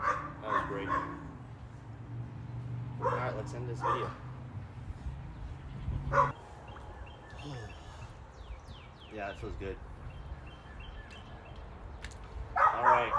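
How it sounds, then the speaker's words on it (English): A dog barks and yips in short bursts in the distance, now and then, while people talk nearby. "I apologize for that dog, it's really annoying, I know."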